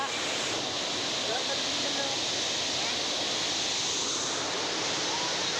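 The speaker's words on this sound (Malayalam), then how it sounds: "ഞങ്ങളുടെ പുഴ" A home riverside: steady, broadband rushing of flowing river water, even and continuous, fairly distant and soft, with no talk.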